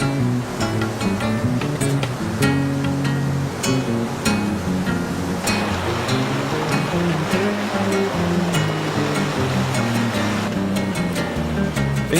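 Rapids and waterfalls of the Rio Formoso in Bonito, Brazil, give a steady, loud rush of water that runs unbroken throughout, with a tonal, music-like layer beneath it.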